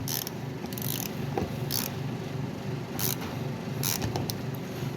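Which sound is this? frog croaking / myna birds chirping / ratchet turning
ratchet turning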